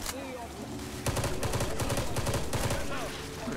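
Gunfire in the video game Left 4 Dead 2, a rapid burst of repeated shots starting after a brief lull and continuing in quick succession, loud and close, with game sound effects underneath.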